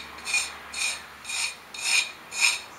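Razor blade scraping excess glaze off a small four-inch ceramic bowl, five even rasping strokes in a steady rhythm, close and clear with no talking.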